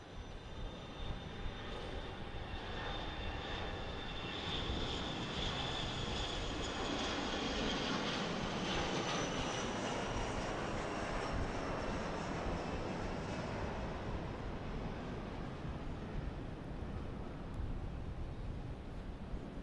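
A jet airliner takes off at Dallas Love Field in severe weather, a broad, sustained roar with a rising whine that swells in the middle and holds steady at a distance, with no talking.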